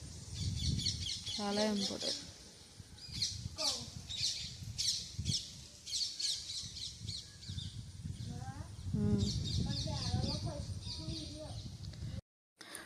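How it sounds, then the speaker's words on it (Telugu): Morning birds chirp and call repeatedly in a village setting, bright twittering phrases rising above steady background noise while a person talks throughout. "పక్షుల సౌండ్లు వినడానికి చాలా బాగుంటాయి కదా"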